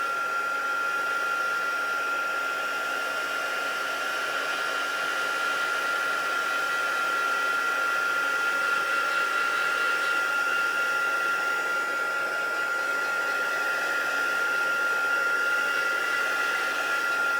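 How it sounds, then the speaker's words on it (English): Heat gun drying StazOn ink on stamped paper, a constant close whooshing hiss with a faint whine, unbroken and steady for the whole stretch with no talk. "you're going to want to dry this with your heat gun"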